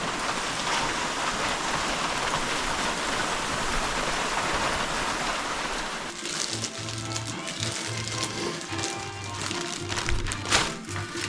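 Steady rain falls at a deer camp in Michigan, a dense, continuous patter, with a change midway to closer, sharper drops tapping on a surface nearby.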